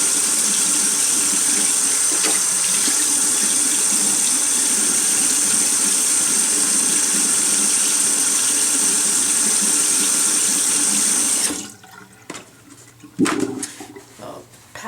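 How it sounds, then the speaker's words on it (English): Water runs steadily from a tap as a face and facial cleansing brush are rinsed, a loud continuous gush for about eleven seconds that cuts off abruptly, followed by a few quiet drips and handling sounds. "I'm gonna rinse my face off and the brush off really quick."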